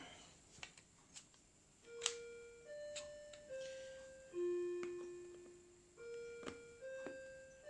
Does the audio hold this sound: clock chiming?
yes